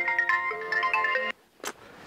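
A mobile phone rings with a short, bright melodic ringtone of repeated tones, loud and close, that cuts off abruptly, followed by a brief faint sound, with no talk.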